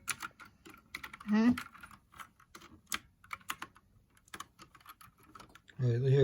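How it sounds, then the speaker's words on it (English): Keys pressed on a HAVIT gaming keyboard: scattered crisp clicks and clacks in an irregular rhythm, close by, with a voice speaking between the keystrokes. "All right, here, just press a few different keys"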